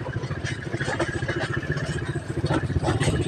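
A motorcycle engine runs nearby with a steady, rumbling drone and some clattering, fairly loud throughout.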